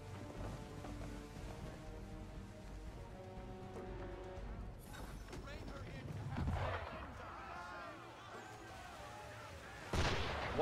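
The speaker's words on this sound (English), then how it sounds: "Why is he shooting at us?" Cannon or gun fire aimed at a ship in the video game Assassin's Creed 3, heard as heavy booming blasts and rumbling impacts over a continuous music and effects bed, with a sharp loud burst near the end.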